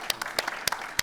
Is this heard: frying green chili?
no